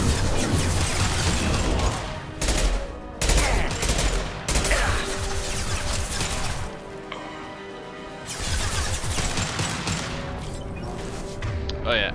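Gunfire and a concussive shot in the video game Mass Effect 2, loud bursts of rapid shots and impacts that break off briefly and resume, with a voice talking over parts of it.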